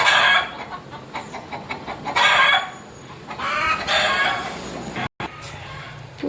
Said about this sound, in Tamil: இங்கே பாருங்கள் எப்படி கத்திக்கிட்டே இருக்கு பார்த்தீங்களா?